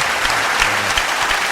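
A burst of applause, dense steady clapping from a small group at close range, loud and continuous throughout with no talk.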